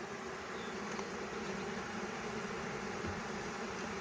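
Honey bees buzzing at the entrance of a hive, a continuous close, even drone of many insects with no voices over it.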